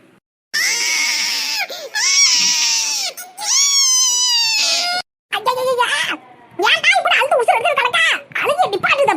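A baby cries loudly in long, wailing bursts with brief gaps, then breaks into shorter, choppier sobs toward the end, close and dominant.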